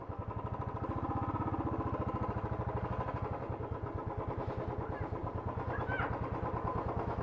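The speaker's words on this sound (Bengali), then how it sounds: "বাইকটা এখানে রাখি।" A touring motorcycle on a Kolkata to Vizag ride idles steadily and close by as it is brought to a stop for parking, its engine thumping in an even rapid pulse with light mechanical clatter throughout.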